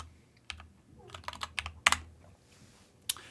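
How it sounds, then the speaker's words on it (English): Someone types on a computer keyboard, a quick irregular run of close, crisp keystrokes with a few louder clacks and brief pauses. "If you go to Google and you type in Hettinger School,"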